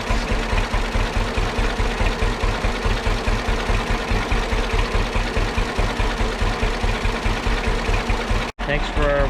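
A John Deere H tractor engine runs steadily close by, its rhythmic putt-putt chugging continuous and loud before a sudden brief cutoff near the end.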